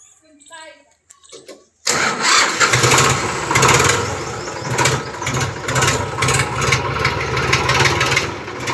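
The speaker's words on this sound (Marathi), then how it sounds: "आता माऊली ट्रॅक्टर मागं घ्यायलाय" After a few quiet, faint sounds, a tractor engine abruptly starts and settles into a loud, steady diesel rumble close by as the tractor is reversed.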